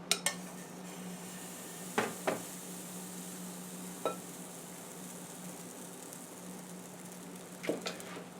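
A pancake sizzles steadily in a hot pan, a soft constant fry punctuated by a few sharp clinks and scrapes of a utensil against the pan.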